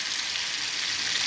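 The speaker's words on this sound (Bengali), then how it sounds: "সয়াবিন তেল মধ্যে দিয়ে দিয়েছি, এখন ভাজা হচ্ছে।" Chicken pieces fry in hot soybean oil for a roast-chicken dish, giving a steady, close, dense sizzle and crackle that runs evenly throughout with no voices.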